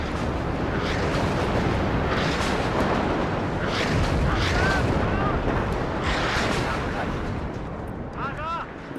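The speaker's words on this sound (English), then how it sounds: "That's a lot of artillery." Artillery fire and explosions in the game WARNO, a dense, continuous rumble of distant blasts and booms that swells in waves and then eases off near the end.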